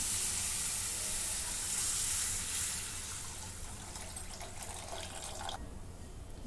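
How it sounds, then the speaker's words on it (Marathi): Water pours steadily into a pan of roasted spice mix for egg curry, with a rushing, splashing hiss that thins out and then stops near the end. "पाणी ओतून घेते"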